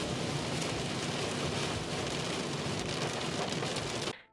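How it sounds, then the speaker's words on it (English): Heavy rain pours steadily as a dense, even hiss of drops on surfaces, continuous and enveloping throughout before cutting off abruptly at the end, with no voices. "just on our way to dinner, it started to rain heavily again"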